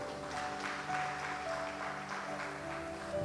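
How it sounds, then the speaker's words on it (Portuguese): A church congregation claps for Jesus during a worship programme, a steady, even wash of applause over sustained musical tones that carries through the whole stretch without any voice. "E se você crê, já vai aplaudindo ao Senhor Jesus."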